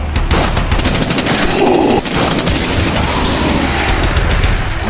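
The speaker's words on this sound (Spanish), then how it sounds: "Así que suena un disparo" Dense, rapid gunfire rattles continuously at close range, a loud volley of overlapping shots with no pause for several seconds.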